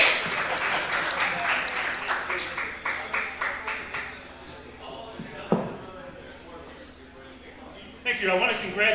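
An audience at a stand-up comedy show breaks into applause for comedian Joe Ney, a dense run of clapping that swells for several seconds and then thins out, with some talk and crowd noise mixed in.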